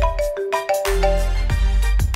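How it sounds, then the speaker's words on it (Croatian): A mobile phone ringtone plays a loud, repeating melodic pattern of bright tones, with no one talking over it. "Čiji mobitel zvoni?"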